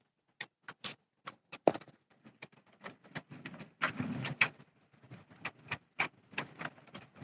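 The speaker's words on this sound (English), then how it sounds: "I think it's hailing here at the house." Hail falling outside a house: irregular sharp ticks and taps hit at uneven intervals, moderately close but fairly quiet, with a brief denser rattle in the middle and no voices.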